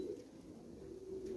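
Pigeons in a loft give a soft, steady, low cooing that drones on quietly throughout, with no voices.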